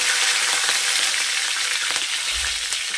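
Curry leaves frying in hot oil with cumin, mustard seeds and asafoetida for upma, a steady, loud, bright sizzle and crackle throughout, with no voices.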